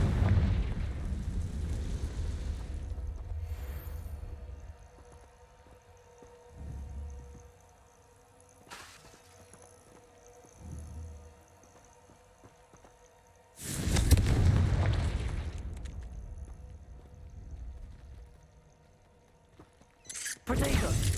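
Fiery blasting-spell explosions in the Hogwarts Legacy video game rumble and roar: a long low burst at the start, a sharp crack in the middle, a big blast past halfway and another at the end, all over a steady game hum.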